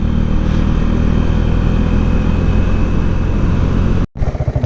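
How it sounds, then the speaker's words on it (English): A small moped rides a highway in Vietnam, its engine giving a loud, steady droning hum with road and wind rumble that cuts off abruptly near the end before a brief fluttering restart. "amazing what a small moped can do."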